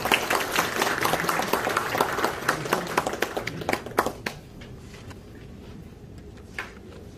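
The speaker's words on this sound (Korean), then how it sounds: "큰 박수로 환영해 주시기 바랍니다." Ceremony audience applauds to welcome a speaker at the 18th Automobile Day event in a Seoul hotel ballroom, a dense wash of clapping that thins and fades out midway, leaving quiet room tone.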